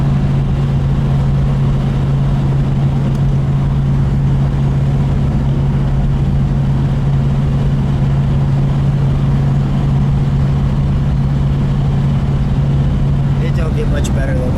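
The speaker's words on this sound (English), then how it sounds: "Just driving through, letting this one rip a little bit." A green 1970 Plymouth Road Runner with a 440 Six Pack, Air Grabber hood and 4-speed gearbox is driven hard, heard from inside the car as a loud, constant low engine rumble and drone.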